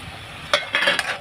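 Eggs going into hot oil in a pan for an Indian egg fry masala, with a few short bursts of clinking and sizzling that settle into a brief steady sizzle, close and moderately loud.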